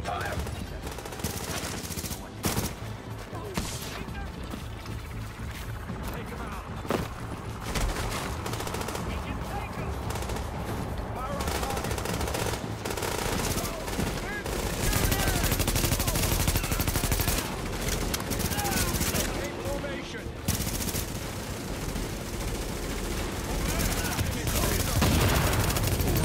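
Sustained gunfire in Tom Clancy's The Division, with rapid bursts and sharp single shots crackling continuously at close range, dense and loud throughout, with brief voice chatter mixed in.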